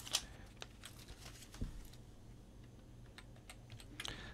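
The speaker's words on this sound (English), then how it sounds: "Type in this code." Keystrokes on a computer keyboard entering a discount code, a few soft scattered clicks spread over several seconds with a sharper tap near the middle, quiet and close with no voices.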